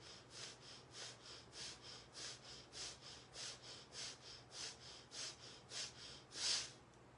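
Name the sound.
breathing in through the nose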